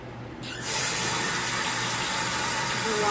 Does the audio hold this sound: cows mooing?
no